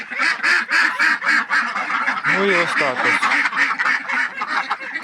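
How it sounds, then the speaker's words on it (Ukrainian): Two ducks quack loudly and rapidly in a steady stream of harsh calls close by, with someone speaking briefly over the noise. "Наробили шуму качки, звичайно, дві качечки"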